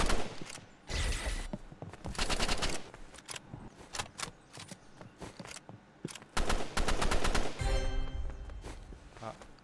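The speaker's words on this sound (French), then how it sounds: "Fusil d'assaut." Rapid bursts of assault rifle fire in the Roblox game Rivals, loud repeated volleys with short pauses between, dense and close throughout.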